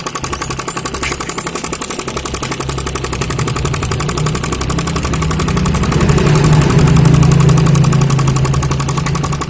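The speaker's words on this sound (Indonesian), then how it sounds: "Sekarang kita mencoba dengan memompa motor langsung." A homemade miniature diesel-powered air compressor runs steadily while pumping up a motorcycle tire, its engine chugging with a rapid, even knock at close range and growing slightly louder toward the end.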